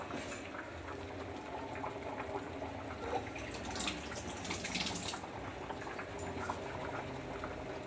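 A pot of water bubbles at a steady boil with rice added for amaranth-leaf biryani, a continuous close simmering rumble with faint popping, no voices.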